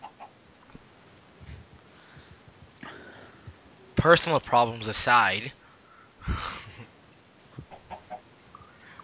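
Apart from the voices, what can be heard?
chicken clucking in the video game Minecraft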